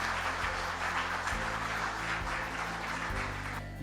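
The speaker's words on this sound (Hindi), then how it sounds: "एक बार जोरदार तालियां हो जाए आप सभी लोगों के लिए" Audience applause at an Atomy business seminar fills the room in a steady, dense wash of clapping for nearly four seconds, with low hum beneath. It thins slightly at the end, and no one speaks over it.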